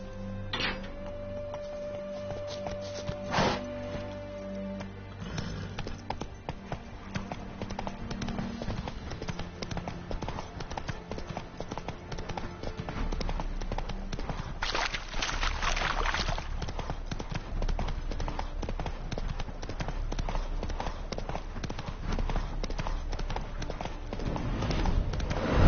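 Hooves of the horse Roach clip-clop in a steady trotting rhythm in the video game The Witcher 3: Wild Hunt, with game ambience, a few chimes and tones, and heavier low rumbling building later on.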